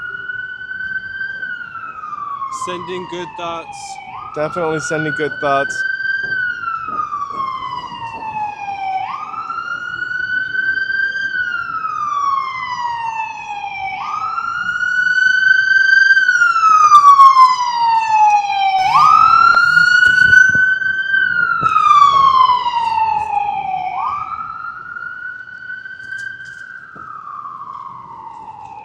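An emergency vehicle siren wails on a Los Angeles street at night, a steady repeating rise-and-fall cycle about every five seconds for nearly half a minute, swelling nearer then fading, with people talking over it and street noise beneath.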